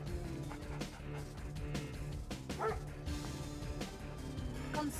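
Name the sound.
dog barking in video game Command and Conquer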